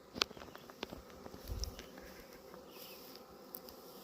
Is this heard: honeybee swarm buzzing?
yes